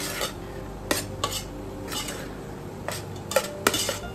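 A metal utensil stirs saffron into cooked rice in a pot, giving a handful of sharp scraping clinks against the pan at irregular intervals over a soft, continuous background hiss, close and moderately loud.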